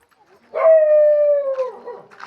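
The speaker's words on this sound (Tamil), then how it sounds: "இன்னொரு நாய் வருது" A dog lets out a single loud, close, sustained howl that holds a steady pitch for about a second, then trails off into a falling whine and some softer yips.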